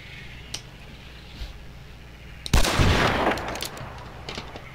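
Gunfire in the game Hunt: Showdown: a few faint shots early on, then a loud, sharp burst near the middle followed by rapid crackling reports that fade out.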